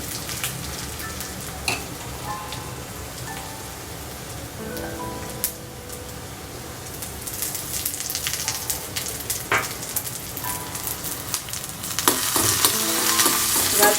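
Curry leaves and dried red chillies sizzle and crackle in hot oil in a Kerala-style stew pan, with steady frying hiss, occasional pops and spoon scrapes as they are stirred, growing louder and busier toward the end.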